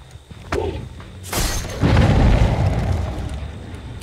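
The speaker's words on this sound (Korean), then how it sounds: "폭발이 터졌죠" A sudden explosion goes off in Dead by Daylight, starting as a sharp blast and then swelling into a deep, rumbling roar that keeps on booming and slowly fades.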